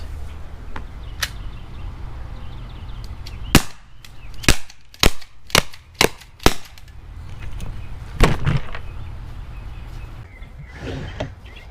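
Byrna Compact Launcher CO2 shots fired at a watermelon in a backyard: a series of sharp, loud pops, several in quick succession, with scattered smaller cracks and impacts between them and no talking.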